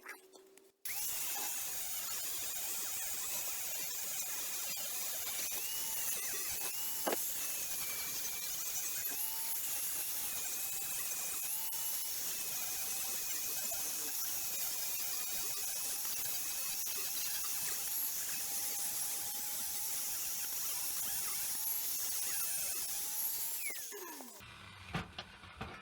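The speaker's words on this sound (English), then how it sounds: "Now let's get those welds ground down." Grinding down welds on a homemade Shelby Cobra model, a continuous high-pitched whining tool running steadily for over twenty seconds with slight pitch wobbles, then stopping abruptly.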